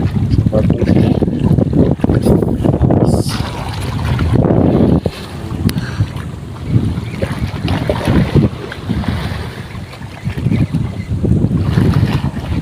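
Strong gusting wind buffets the microphone in heavy low rumbles, rising and falling continuously, with some faint talk mixed in.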